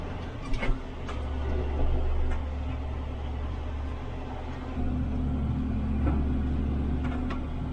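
A truck hauling a load of hay rolls slowly along on a hot day, a steady low engine rumble with road noise, constant and fairly loud, broken only by a few faint clicks.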